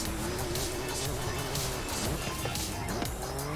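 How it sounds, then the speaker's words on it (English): A car engine roars steadily in the racing game Forza Horizon 5, a loud continuous drone lasting the whole stretch, with game noise mixed in and no clear talk. "Hear that engine roar!"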